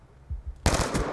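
A short, sudden burst of rapid automatic gunfire in the video game Black Ops 2 erupts loudly after a near-quiet moment.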